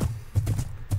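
Horse moving in Minecraft, heard as a rhythmic series of soft hoof clip-clops at a close, steady level, with no other sounds.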